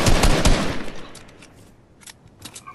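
Loud, close automatic gunfire from Fortnite fills the opening second, then fades into scattered, fainter single shots and short bursts further off.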